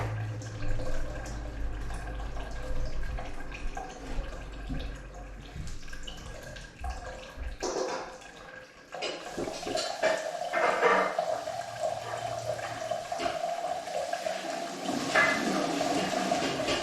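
Filtered water from a home filter running and splashing into a container, a steady close wash of flowing water that grows fuller and brighter partway through, with no talking.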